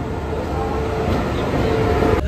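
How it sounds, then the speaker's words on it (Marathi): A passenger train pulling into a station in Indore, its steady low rumble and rolling wagon noise filling the scene continuously, loud and close, with a brighter squeal briefly appearing before a sudden cut near the end. "सो गाईज फायनली आमची ट्रेन आलेली आहे"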